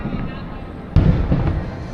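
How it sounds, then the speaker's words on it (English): Fireworks from the Happily Ever After show, heard from a balcony at Disney's Contemporary Resort: a steady distant rumble with one sharp loud burst midway, followed by continuing crackling booms. "You can watch the fireworks right from your balcony."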